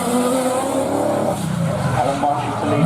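Drift cars at a British Drift Championship round slide around the first corner, engines roaring and tyres squealing continuously, with a commentator talking over the racing.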